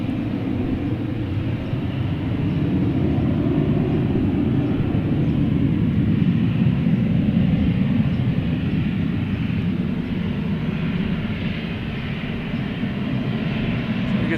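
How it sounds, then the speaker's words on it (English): A JetBlue Embraer E190 jet bound for Nantucket roars steadily at Boston Logan Airport, a loud, continuous broadband engine rumble that holds for the whole stretch with no talk over it. "We have just JetBlue here heading to Nantucket, D190."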